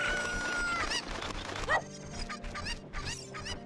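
Chickens in The Legend of Zelda: Ocarina of Time cluck and squawk in several short, excited calls over a steady background of game sound, moderately close and fairly quiet.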